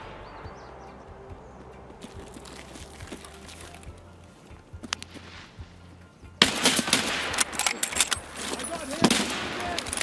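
Gunfire in Escape from Tarkov, scattered distant shots at first, then a loud, close barrage of rapid bursts erupting partway through.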